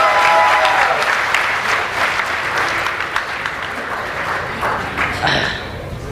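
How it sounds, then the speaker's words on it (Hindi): A crowd applauds loudly and steadily at a poetry gathering, welcoming poet Vikki with dense, continuous clapping that tapers slightly toward the end. "जोरदार ताली बजा के विक्की भाई का स्वागत करें"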